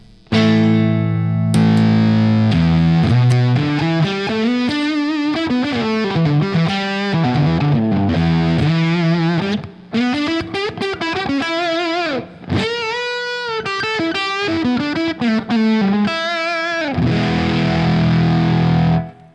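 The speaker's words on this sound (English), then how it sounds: "we're going to start off with the silicone fuzz" Heavily distorted electric guitar through a silicon fuzz pedal with a thick fuzz tone, playing a riff with sustained notes and brief breaks, loud and alone with no talking.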